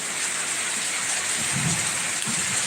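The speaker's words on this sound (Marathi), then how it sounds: "पूर्ण ओरांड्यावर किती जोरदार पाऊस चालू आहे बघा" Heavy rain pours steadily over a courtyard during a thunderstorm, a dense continuous hiss close by with a low rumble rising in the middle, no voices.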